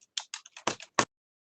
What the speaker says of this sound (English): Can the person who's typing possibly mute?